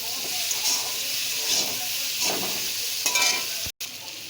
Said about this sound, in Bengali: আলুগুলো দিয়ে আমি সুন্দর করে একটু কষিয়ে নেব মশলার সঙ্গে